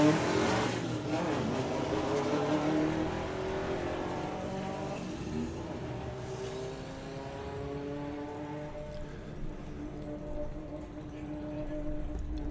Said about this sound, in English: You can hear Tom backing off the throttle at the stripe there, but backed off too much.